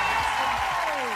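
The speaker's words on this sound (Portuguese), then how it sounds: "Salve de palmas para o Michael Jackson." Studio audience applauding a Michael Jackson impersonator on a Brazilian TV variety show, a steady, dense wash of clapping with a faint voice-like tone sliding downward over it.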